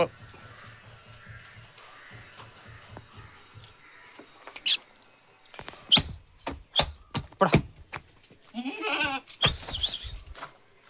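Malabari goats, a mother and two kids, bleat nearby, a wavering cry standing out among sharp clicks, shuffling and faint background voices.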